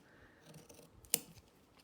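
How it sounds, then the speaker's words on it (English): Scissors make a single sharp snip, trimming a small notch in the stabilizer of a fabric TARDIS-shaped bag, close and crisp against a quiet room. "we're gonna trim it just a little bit. Little notch."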